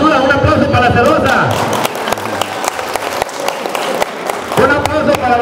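A crowd at an expo event applauds, loud sustained clapping and cheering with a voice talking over it near the start and end.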